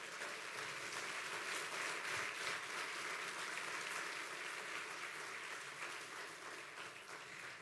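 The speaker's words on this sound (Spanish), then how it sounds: "Dan un aplauso al Señor." A church congregation applauds steadily during a sermon, a dense wash of many hands clapping at even loudness throughout, with no voices standing out.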